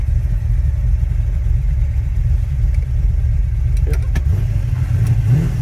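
A 1971 Ford XY GT Falcon replica rumbles at idle with a deep, steady engine burble close by, then a few light clicks and a short rise in revs as it starts to pull away.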